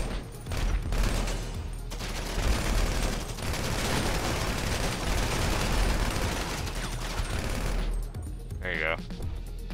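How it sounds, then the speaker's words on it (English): Rapid bursts of gunfire from the GTA V video game aimed at a car's tires, loud and continuous over several seconds and fading near the end. "Shoot his tires out."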